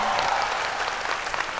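Brief burst of audience applause at a live music lounge show, dense continuous clapping from a crowd filling the whole moment.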